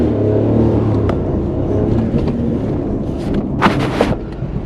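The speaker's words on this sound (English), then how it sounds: "Little bastard of a car stalled." A worn car with 53,000 kilometres on it stalls on a street in Odessa, Ukraine: a loud, close, rough low rumble with a few sharp knocking bursts toward the end, with no talking.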